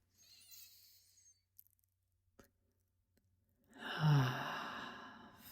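Deep diaphragm breathing during breath work: a slow airy inhale, a pause with faint clicks, then a long, louder, breathy sighing exhale close to the mic.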